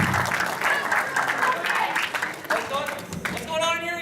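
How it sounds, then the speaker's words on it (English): A convention audience at BronyCon claps together in a crowded hall, the applause mixing with shouting voices and cheers, loud and close, easing briefly before picking back up. "Clap for Tweet!"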